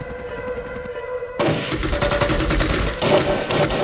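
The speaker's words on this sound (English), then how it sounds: "But nothing prepared the ATF for the hail of gunfire they now faced." Dense gunfire erupts during the 1993 Waco siege at the Branch Davidian compound, a sudden burst of rapid overlapping shots and volleys that starts loud after a quieter opening and keeps crackling without pause.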